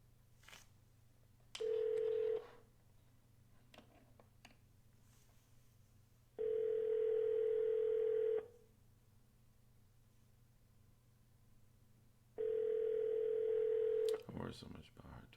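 A telephone call rings out on the line, three long, evenly spaced ringback tones sounding through steady low hiss, with a faint click at the end.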